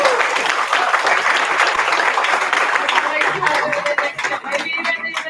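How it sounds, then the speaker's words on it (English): Audience applause fills a school debate hall, sustained dense clapping for the Solomon team from the Melanesian school debate, steady and loud throughout with some voices mixed in beneath. "one last big round of applause for Solomon"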